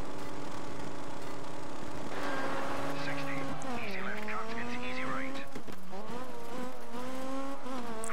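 Rally car in the DiRT 3 video game, its engine revving up and down through gear changes with rising and falling whine, some tire skid noise, and a voice talking over it.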